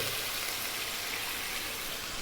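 Water pours steadily into a pot of beetroot soup, a continuous close splashing gush that fills the whole short stretch at an even level with no talk.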